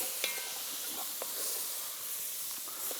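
Washed basmati rice being stirred once in a pot for a wood-oven roast chicken meal, giving a soft, continuous scraping hiss with faint grainy rustles, fairly quiet and steady with no talk.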